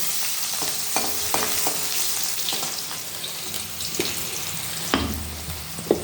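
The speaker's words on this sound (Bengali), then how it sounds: "এখন মুড়ো তুলে নিয়েছি, এখনও ফাটছে বাবা বাবা" Fish head frying in hot oil, heard as a loud, constant sizzle with sharp pops and crackles bursting through it at irregular moments, close up.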